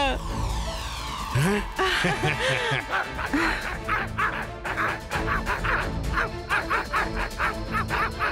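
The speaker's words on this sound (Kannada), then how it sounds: "ಇವುಗಳು ನಾಯಿಯಂತೆ ಬೊಗಳುತ್ತೆ" Animated creatures from the Rudra cartoon bark like dogs in a loud, rapid burst of overlapping barks and yips, mixed with cartoon sound effects.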